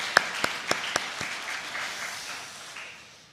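Applause from a congregation at an early morning church service: a few sharp, distinct claps open, then a soft scattered wash of clapping that gradually fades away.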